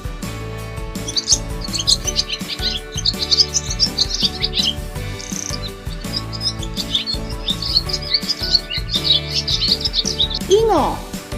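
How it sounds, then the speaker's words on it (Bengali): A dove calls from a tree: quick, high bird chirps repeat steadily throughout, mixed under a busy children's rhyme melody. "ঘুঘু পাখি ডাকছে গাছে"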